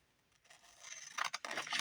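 Scissors cut through scrapbook paper in a few quick snips, starting quiet and building into close, crisp cutting and rustling toward the end, with no talk.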